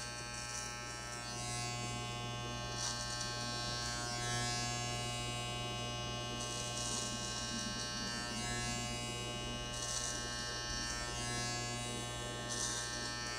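Conair Custom Home Cutting Kit electric clippers cutting a person's hair, a continuous close buzzing hum with light crisp cutting crackles that come and go, steady and moderately quiet with no speech.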